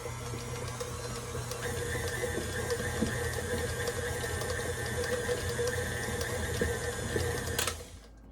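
An electric mixer on low speed churns dog treat dough, a steady motor whir with rhythmic beater clatter running for about seven seconds before switching off, close and without talk.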